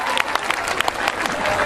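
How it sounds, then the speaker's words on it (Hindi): A large audience at a Hindi-Urdu poetry gathering applauds loudly and continuously, a thick wash of clapping hands close and sustained throughout. "पुरजोर तालियों से इस्तकबाल करें"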